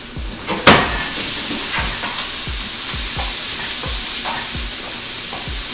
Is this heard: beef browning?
yes